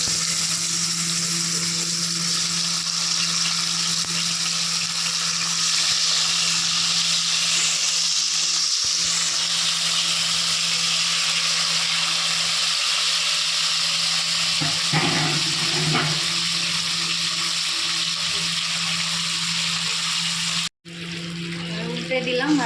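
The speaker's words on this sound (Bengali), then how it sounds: "তেল গরম হয়ে গেছে, এবার মাছগুলো আমি দিয়ে দিই।" Bhola fish fries in hot oil in a wok, a dense, continuous sizzle that stays loud and close for the whole stretch, broken by brief clatter near the middle and a sudden cut near the end.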